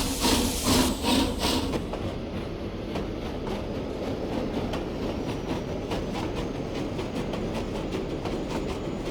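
A steam train engine pulls along rails with a rhythmic clatter and hiss, louder at first and then a steady, moderately close run of regular clicking beats.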